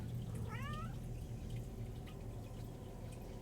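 A single short meow from a cat in Skyrim, fairly faint, followed by a steady low hum.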